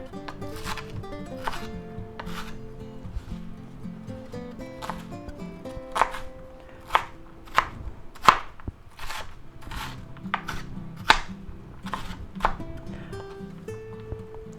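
Onions being chopped with a knife on a board, a long run of crisp rhythmic cutting taps, some sharper and louder, close up with no talking.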